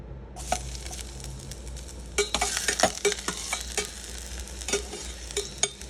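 Chicken oil frying in a pan for saluyot (Egyptian spinach), a steady close sizzle with a burst of scraping, clinking stirring strokes from about two seconds in, no talking.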